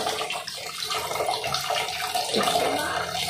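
Water splashes and pours continuously where people are bathing, a dense, steady wash of sound heard up close.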